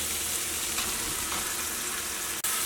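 Fried chicken going into sizzling biryani masala in a Kerala home kitchen, a steady loud broadband sizzle that runs continuously with a brief dip near the end.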